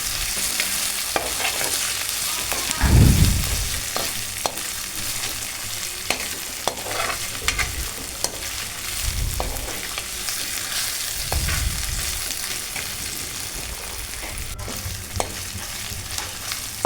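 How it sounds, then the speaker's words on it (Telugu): Tempering spices fry in hot oil in a pan for tomato egg curry, a constant bright sizzle with scattered crackles and a few low thuds of stirring, close up and with no talking. "ఇలా బ్రౌనీస్గా వచ్చినట్టు వేయించుకోవాలి పోపుని"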